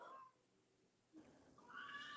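A cat meows indoors in a home, faint mid-pitched calls at the start and again near the end, with a quiet pause between and soft room noise around them.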